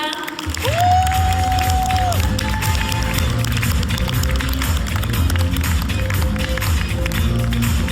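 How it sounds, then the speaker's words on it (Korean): An audience claps and cheers steadily in a large room at a business leaders' speech event, welcoming a speaker; the applause is continuous and fairly loud throughout. "큰 박수로 모시도록 하겠습니다."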